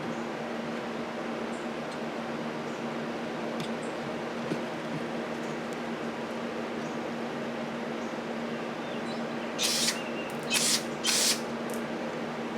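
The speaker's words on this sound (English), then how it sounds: "shoot some brake cleaner down in there" Three short, sharp hissing bursts of brake cleaner are sprayed into a 1982 Sachs Eagle moped near its end, over a steady background hum.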